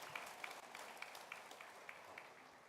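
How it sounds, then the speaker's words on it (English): A summit audience applauds a president with steady, faint clapping heard from a distance. "Can we please give a round of applause for our President,"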